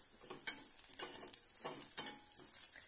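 Spiced masala for a besan and capsicum dish stir-fried in a pan on low gas: a soft, quiet sizzle broken by rhythmic spoon scrapes roughly every half second, close and unaccompanied by talk.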